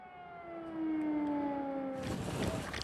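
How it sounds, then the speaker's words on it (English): An air raid siren in Ukraine wails, holding a steady tone and slowly falling in pitch, then a burst of broadband rumble and noise washes over it. "are forced to seek safety when an air raid siren rings out"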